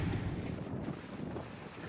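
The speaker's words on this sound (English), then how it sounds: "It's windy." Wind buffets the microphone at a roadside rest area, a loud low rumbling roar that gusts and eases over a couple of seconds, with no voices.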